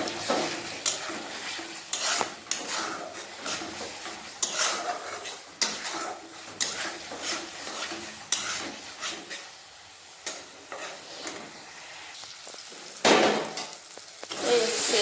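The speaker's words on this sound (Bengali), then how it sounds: "জল দিয়ে ভালোভাবে কষে নেব" Spice masala stirred and fried in a pan with a splash of water, soft sizzling under frequent metal clinks and scrapes of a spoon against the pan, irregular and close.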